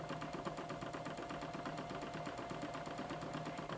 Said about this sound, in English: Press Start again, and the Baby Lock Allure will skillfully sew the next segment of the design.